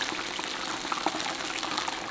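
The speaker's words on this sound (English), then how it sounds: "your beautiful crab rangoon ready to be fried" Crab rangoon frying in hot oil, giving a steady, dense crackle and bubbling hiss with scattered small pops, fairly soft and continuous throughout.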